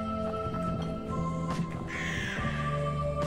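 Pixel-game crow cawing in the LISA video game, a short caw set over a steady bed of game music with tonal layers and no speech.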